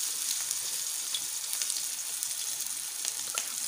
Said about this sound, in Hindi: मैं इसमें आहिस्ता आहिस्ता पीस डालेंगे फ्राई होने के लिए